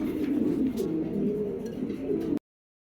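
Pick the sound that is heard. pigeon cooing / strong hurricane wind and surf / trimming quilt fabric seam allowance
pigeon cooing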